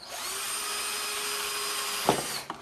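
A power drill bores into faux salvage marquee letters with a steady high whine for about two seconds, then a sharp bite and clatter as the bit finishes and the motor winds down.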